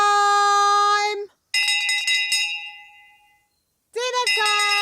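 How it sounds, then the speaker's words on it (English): A bell rings out for dinner time in a children's cartoon, giving bright, clear metallic strokes with a lingering ring that fades to silence before another loud burst of ringing starts. "Nanny rings the bell every night"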